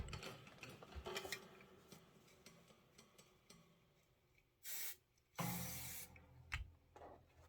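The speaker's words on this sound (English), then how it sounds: "I'm going to give my batting a little shot of spray" Two short hissing bursts of spray adhesive from an aerosol can onto quilt batting, standing out over quiet mechanical ticking and faint handling noise.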